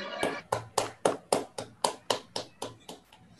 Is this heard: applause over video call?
yes